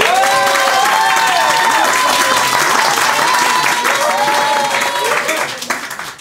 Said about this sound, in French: par applaudissement s'il vous plaît